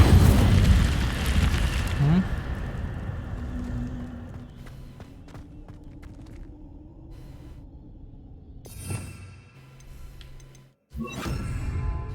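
An Incendio fire spell cast in Hogwarts Legacy, a loud roaring burst of flame that fades into a lingering low rumble with faint ticking, followed by a sharper whoosh near the end.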